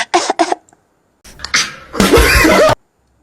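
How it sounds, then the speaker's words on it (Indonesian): A person coughs several times in a row, short harsh bursts close to the listener, ending with a longer rough cough. "Aku batuk."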